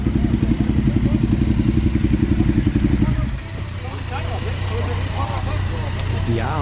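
Honda VFR motorcycles arriving at a gathering, a close, steady throbbing engine that drops to a lower idle-like rumble, with people talking nearby.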